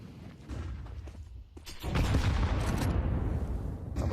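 Two high-explosive grenades detonate in a competitive first-person shooter match, a muffled boom followed by a louder, sustained blast rumbling with debris and gunfire, no talk.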